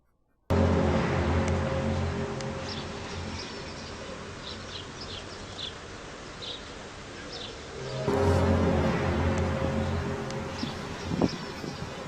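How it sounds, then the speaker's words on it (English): Soft bird chirps twitter in the background over a steady outdoor ambience of wind and rustling, with faint insect-like buzzing and a slightly louder stretch near the end. "you can hear the exact same soft bird noises in the background"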